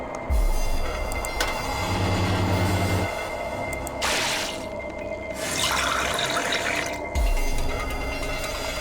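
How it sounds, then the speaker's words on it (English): Water pouring into a beaker in the video game Zero Escape, two rushing bursts of liquid over steady game music and low rumbling tones. "Let's fill this beaker."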